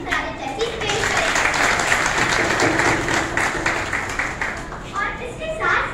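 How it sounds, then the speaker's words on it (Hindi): An audience at an award ceremony for a speech gives loud applause that builds and holds for several seconds, with some voices and children's chatter mixed in. "हम बच्चों के मोहसिनीन में से शान साहब की जबरदस्त तालियां बजाकर उन्हें खराज तहसीन पेश करें"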